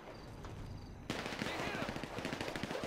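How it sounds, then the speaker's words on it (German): Enemy automatic gunfire in GTA 5 Online opens up suddenly after a quieter stretch, then continues as rapid, rhythmic bursts of shots that stay fairly loud to the end. "die schießen gleich instant auf mich"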